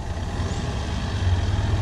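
An Isuzu MU-X 4WD crawls over rocks on a bush track at Yalwal, its diesel engine a steady, close, rumbling drone under load with a continuous low growl and no talk.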